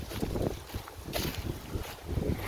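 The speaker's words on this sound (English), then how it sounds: "Boy, it's really windy." Strong gusts of wind batter the microphone in rumbling, uneven waves, loud and continuous throughout.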